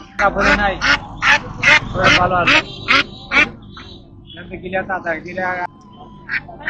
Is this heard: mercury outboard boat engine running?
no